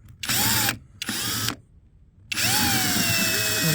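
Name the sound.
power screwdriver running in reverse to remove broken antenna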